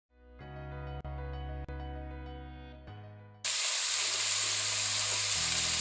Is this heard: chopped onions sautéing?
yes